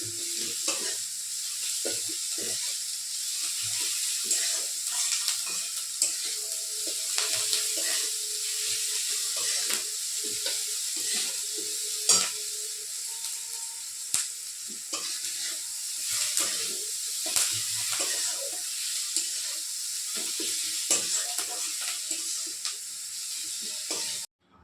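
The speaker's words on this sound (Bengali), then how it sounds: "এবার সবগুলোকে একসাথে মিশিয়ে ভালো করে ভেজে নিতে হবে।" Sliced onion frying in oil with sugar, salt and turmeric, a soft continuous sizzle broken by frequent spatula stirs and scrapes against the pan, no talk.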